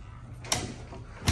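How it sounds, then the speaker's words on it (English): Doors on a Land Rover 110 five-door soft top conversion being closed gently, giving two separate soft thuds, one near the middle and another at the very end, with quiet room tone in between. "So just close the doors gently, make sure they don't catch anywhere."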